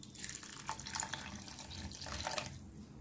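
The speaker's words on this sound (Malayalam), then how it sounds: "ഇനി അര കപ്പ് വെള്ളം ഇതിനകത്തേക്ക് ചേർത്ത് കൊടുക്കാം" Half a cup of water is poured from a small bowl into rava and yogurt batter, a quiet, short trickling splash close by.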